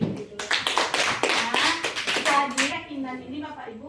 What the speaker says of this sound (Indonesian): Tepuk tangan untuk diri dulu.